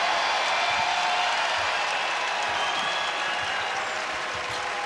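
A basketball arena crowd cheers for Vanderbilt at an SEC Tournament semifinal game, a dense, continuous roar of applause and voices filling the space evenly without letting up.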